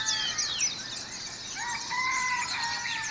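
A rooster crows while chickens cluck and chirp nearby on Kauai, the calls overlapping in a busy farmyard.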